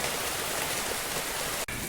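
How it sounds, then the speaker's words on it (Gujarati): Heavy monsoon rain pours down in the Gir forest region of Gujarat, a dense, steady roar of drops hitting surfaces, loud and continuous with a brief break near the end. "જો ને વરસાદનો નજારો"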